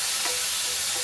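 Onion and tomato frying in a pan, a steady bright sizzle with light stirring scrapes, close up and continuous with no talking.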